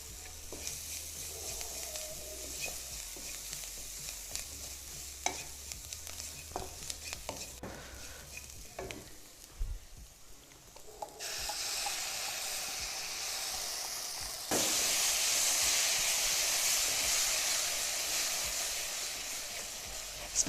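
Matar paneer with peas and paneer cooks in a pan, scattered stirring clacks giving way to a broad, steady hissing sizzle that swells louder midway and holds to the end.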